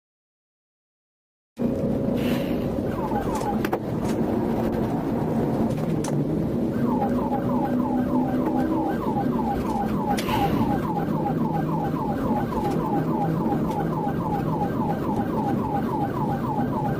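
A police car siren wails during a high-speed chase on a highway, starting after a moment of silence with a rising tone, then switching to a rapid yelp that repeats loudly over engine and road noise.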